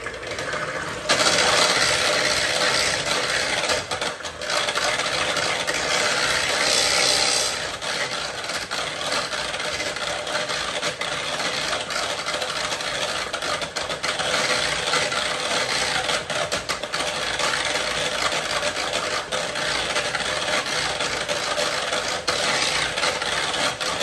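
A mixer beating Oreo pudding cake batter in a bowl gives a steady, loud whirring and scraping that runs the whole time without a break, with no talking.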